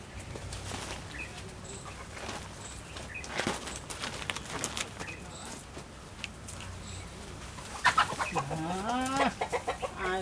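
A rooster clucks nearby in short, rising and falling bursts that grow louder toward the end, over a low background murmur.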